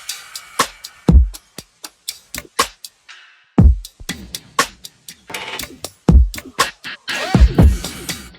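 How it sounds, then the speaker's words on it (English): A sampled drum loop for an ethereal beat plays alone, with punchy low kicks and crisp sharp hits in a steady, sparse pattern, some gaps and a busier burst near the end. "It just plays nicely with the main drum loop"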